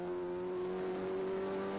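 Onboard a touring race car, the engine holds a steady, loud droning tone with strong harmonics, heard from inside the cabin at near-constant revs, no voices.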